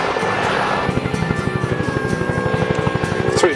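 Huey helicopter flying a display at the 2015 Manchester airshow, its rotor chopping in a steady, rapid thud with a turbine whine above, close and loud throughout.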